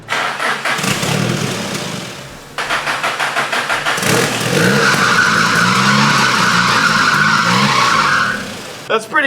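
A cheap daily-driver project car's engine cranks with rapid, loud rhythmic chugging, then catches and fires briefly after brake cleaner is sprayed into the intake, roaring for a few seconds before dying out; voices talk over it.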